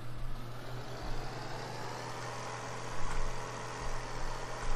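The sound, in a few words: tractor engine running in a farming video game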